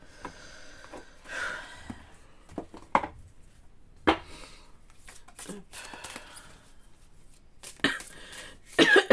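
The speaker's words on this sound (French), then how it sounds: "le fait de tousser comme ça me donne mal à la tête" Someone coughs several times in short, separate bursts, close to the microphone, with quiet pauses between the coughs.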